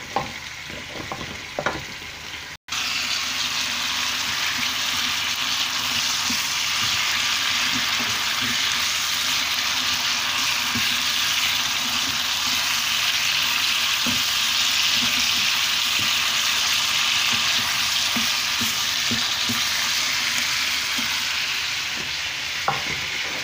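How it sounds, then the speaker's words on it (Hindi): Chicken fries in a pot with ginger and garlic, a steady loud sizzle with occasional stirring scrapes and clinks. A brief dropout comes early, then the bubbling hiss carries on unbroken. "चिकन मुंहिंजो फ्राई थी वियो आहे।"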